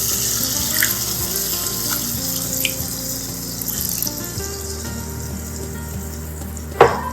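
About half a glass of water goes into a hot pan of grated-egg keema with tomato on high flame, a steady pour and sizzle running for several seconds before a sharp clink near the end.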